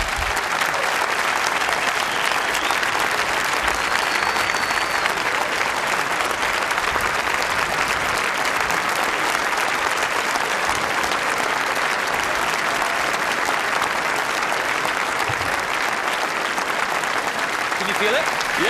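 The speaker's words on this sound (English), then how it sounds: "this is the first time I felt applause on the vest" A large TED talk audience bursts into loud, sustained applause after a talk ends, a continuous wash of dense clapping with occasional cheers mixed in.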